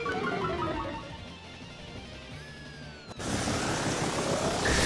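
Make It Rain move effect in a Pokémon battle game, a dense noisy rush like pouring coins or rain with rising and falling tones, then a sudden louder crash of sound that continues to the end.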